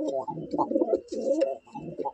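Andhra pigeons in a loft coo close at hand in a series of throaty, rolling calls with short gaps between them, clear and fairly loud.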